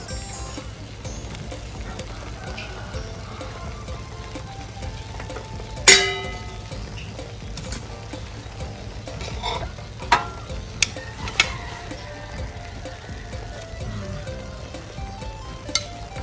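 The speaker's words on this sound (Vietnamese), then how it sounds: "Này chiên lan bánh xèo không? Chiên là tới cái chục cái." Bánh khọt pancakes with clams and mung beans frying in a pan, a steady low sizzle throughout with occasional sharp clinks of a utensil, no talk.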